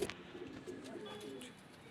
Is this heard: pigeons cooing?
yes